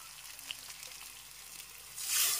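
Cooked dal hitting a hot frying pan with ginger already in it, giving a quiet steady sizzle that swells into a louder hissing burst near the end.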